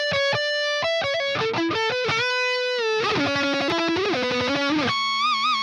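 Lead guitar run through distortion and chorus plugin effects, playing a sustained, thick stereo melody of held notes and quick runs, loud and alone with no talk.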